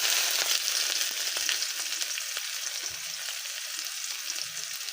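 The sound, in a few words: chopped onion frying in oil with bay leaf and cumin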